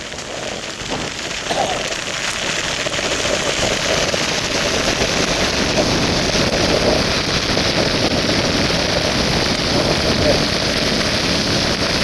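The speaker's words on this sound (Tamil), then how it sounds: "கடும் காற்றும் கடும் மழையும்" Heavy cyclone rain pours steadily with gusting wind roaring into the microphone, a dense continuous hiss lasting throughout, in Mullaitivu, Sri Lanka.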